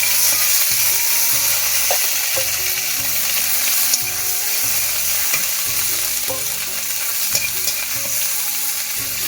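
Ground paste of onion, cumin and dried chilli frying in a pan, a loud continuous sizzle with steady stirring scrapes and a rhythmic low scraping pulse underneath, no voices.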